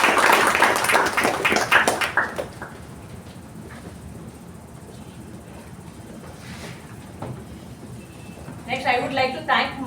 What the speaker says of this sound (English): let's all give them a huge round of applause